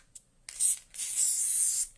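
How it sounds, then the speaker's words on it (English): Spray basting adhesive is misted onto wadding in two close hissing bursts, a short one and then a longer sustained spray, with no talking. "So I'm just going to spray baste."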